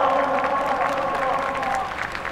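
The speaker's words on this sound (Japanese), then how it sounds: "大きな拍手をどうぞ" A crowd at Twin Ring Motegi applauds rider Hikaru Miyagi after a run on the Mugen Shinden electric racing motorcycle, with steady clapping blending with a public-address voice and crowd noise.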